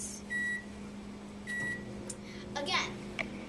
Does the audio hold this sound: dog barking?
no